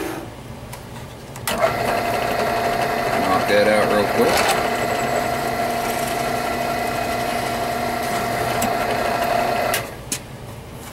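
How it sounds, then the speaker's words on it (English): A drill press whirs steadily for about eight seconds drilling belt loop holes in Kydex, spinning up and winding down, with a brief spoken remark near the start. "Back up to our drill press."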